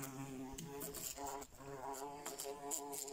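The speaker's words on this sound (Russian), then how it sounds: "Первая пчела." A single bee buzzes indoors in a home, a faint, steady drone that wavers and pulses as it flies about, with no talk.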